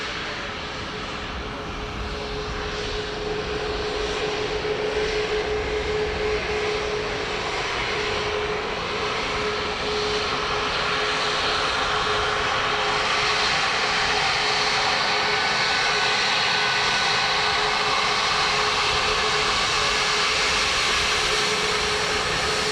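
A fixed-wing aircraft landing at Dublin Airport makes a loud, sustained roar of engines throughout, a broad steady rumble with a faint whine tone, heard from outside and growing slightly fuller over time.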